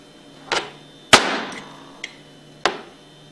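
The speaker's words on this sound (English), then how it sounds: "place it against the inside of the steel casing of the seal and tap it out with a hammer" Four sharp metallic taps of a hammer striking a screwdriver braced against the steel casing of a seal in a Hypro roller pump housing, spaced irregularly and ringing briefly, close and alone.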